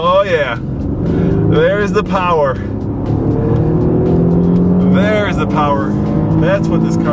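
A car engine pulls hard under acceleration on a test drive of either a 2014 Mazda6 or an Infiniti M35 Hybrid, a loud steady drone and road rush from inside the cabin beneath excited talk.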